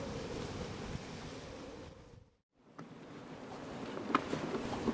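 Wind gusts across an anchorage in a protected Mediterranean bay off Mallorca, a broad, steady rush with microphone buffeting that briefly drops to near silence before resuming, with faint clicks and knocks later on and no talking.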